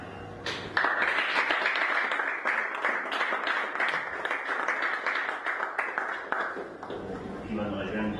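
Crowd at a CCI debate clapping for a young woman candidate, a loud sustained burst of applause that swells in after a short pause and fades toward the end, with a voice talking over the tail.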